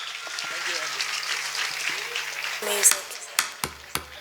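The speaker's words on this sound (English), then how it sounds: "A round of applause to Bright Star as they come on stage." An audience at a kids' talent show applauds a group coming on stage, with clapping under loud voices and music, then a few sharp separate claps near the end.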